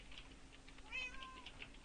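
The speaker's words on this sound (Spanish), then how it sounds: "¿eh? Gato." Cat meowing in the Minecraft video game, a faint short meow rising above a constant low background hum and soft clicking like keyboard typing.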